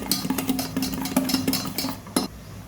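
A spoon stirs khaman batter mixed with fruit salt and oil in a bowl, giving a quick run of close, light clinks and scrapes with a brighter knock near the end.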